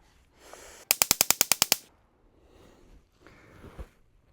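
.22 long rifle fired rapidly at a tree, a tight burst of about nine sharp shots in under a second, followed by quiet breathing and small movement sounds.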